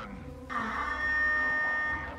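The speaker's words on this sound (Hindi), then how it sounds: "ये अलार्म को थोड़ा बंद हो जाने दो, फिर देखते हैं." An alarm sounds inside the video game Star Wars Outlaws, a steady tonal electronic blare starting abruptly after a quiet moment and holding loud and constant to the end.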